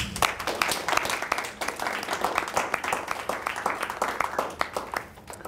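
Audience applause for guests at a peace-building conference in southern Haiti, a steady patter of many hands clapping at moderate distance throughout, with some faint voices mixed in.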